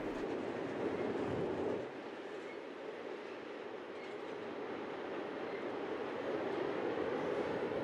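A DB Cargo wagon-load freight train travels between Bischofsheim and Mainz-Kastel, a distant, steady rumble of rolling wagons that stays fairly faint and continuous for several seconds.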